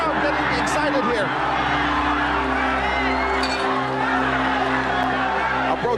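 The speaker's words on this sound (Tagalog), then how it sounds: "Crowd getting excited here." Boxing match crowd at a Filipino fighter's bout roaring and cheering throughout, a dense sustained din under a commentator's loud continuous talk.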